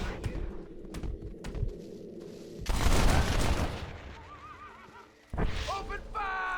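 Gunfire in the Western video game Red Dead Redemption: scattered shots and a heavy burst of firing, mixed with game voices and ambient sounds such as birds.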